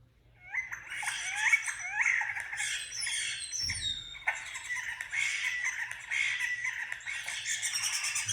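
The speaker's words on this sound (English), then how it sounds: "This is a European starling." A European starling sings alone at close range in a busy run of whistles, clicks, rattles and rising squeaky notes, with a short harsh squawk partway through.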